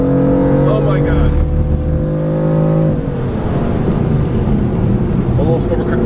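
A 2015 BMW M3/M4 engine revs hard on the Road America race track, a loud sustained in-car drone that holds steady, then drops in pitch as the driver shifts and settles into a rougher roar, with a voice talking over it.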